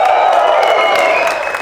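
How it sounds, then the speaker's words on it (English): A crowd at an outdoor campfire storytelling event claps and hollers, loud and close, a dense wash of applause with whoops rising over it, then tapering slightly toward the end. "By a round of applause or hoot and holler or something like that"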